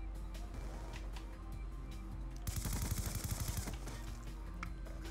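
Gunfire in the video game Black Ops 2 comes as a rapid burst of close, clattering shots in the middle of the clip, set against lower background game sound before and after.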